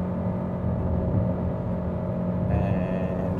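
A 2023 Chery Omoda 5 accelerating hard toward 120 km/h, heard from the cabin as a loud, steady engine drone and road rumble, with a rising whine entering near the end.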